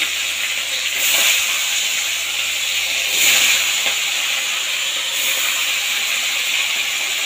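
Poa bhola fish rubbed with salt and turmeric sizzling as the pieces go one by one into hot oil, a steady loud hiss with brief surges, no talking.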